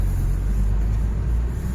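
A four-wheeler car driving up the road to the Dashabhuj Ganesh temple at Hedvi in Konkan, heard as a steady, close, low engine and road rumble throughout, with no talking.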